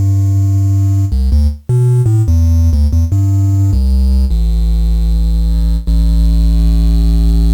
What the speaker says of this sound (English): you can introduce distortion essentially by clipping the top and the bottom of the waveform